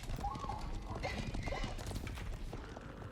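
A video game horse's hooves clip-clop steadily while it neighs over a dense background hum.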